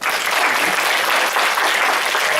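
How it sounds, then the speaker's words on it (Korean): Dense, steady applause from a youth audience at a history lecture in a museum hall, filling the whole stretch loud and unbroken with no voices over it. "우리 박수 한번 칠까요?"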